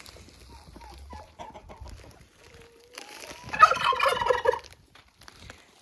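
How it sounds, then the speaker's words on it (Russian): Farm turkeys gobble as they are fed, with scattered clucks at first, then a loud burst of overlapping gobbling near the middle that fades back to quieter calls. "Ну, самым первым, конечно, индюкам несу."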